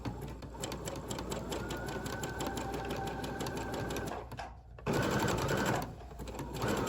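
Sewing machine stitching fabric for a child's apron, a steady rapid mechanical chatter running nearly continuously at close range, with a brief pause midway before it resumes.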